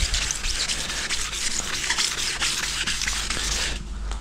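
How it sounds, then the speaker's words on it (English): Hand sanding of a car's clear coat with 1500 grit paper on a foam pad, heard as a steady close-up rubbing and scraping rhythm that continues without pause and stops briefly near the end. "we're going to just start sanding"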